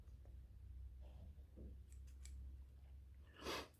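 Scissors cutting moss to shape a figure for an aquarium, a few soft snips and small clicks close by, faint and quiet, ending with one brighter louder cut.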